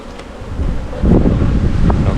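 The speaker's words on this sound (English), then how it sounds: "bees are all coming out here" Honey bees buzz around an opened hive frame, a close insect hum mixed with gusty wind rumble that swells partway through, with no talking.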